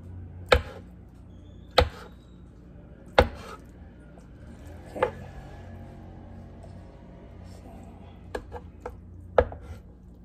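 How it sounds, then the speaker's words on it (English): A knife cuts tofu into cubes on a board, sharp distinct chopping knocks spaced irregularly, about eight strikes, close and clear over quiet room tone. "for the tofu, I'm just gonna cut it up in squares"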